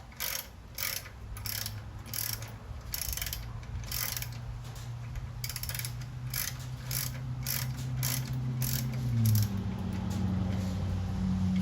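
A ratchet loosening a sway bar bracket bolt, a rapid run of clicking pawl bursts in an uneven rhythm, close and fairly loud over a low background hum.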